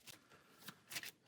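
A deck of encounter cards in a tabletop card game is shuffled, giving quick, quiet riffling bursts over a little more than a second.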